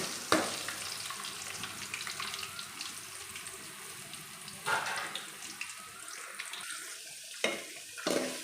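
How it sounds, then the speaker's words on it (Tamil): Steady sizzling of garlic frying in a hot pan, with occasional stirring scrapes and clinks, close by and continuous. "பூண்டு நல்லா வதங்கிச்சுன்னா அடுத்து வெங்காயம் ஆட் பண்ணிடலாம்."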